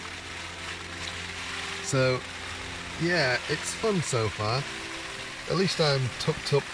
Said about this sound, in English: You can probably hear the rain sheeting down in the background.